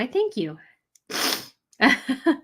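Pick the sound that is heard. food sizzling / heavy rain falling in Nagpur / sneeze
sneeze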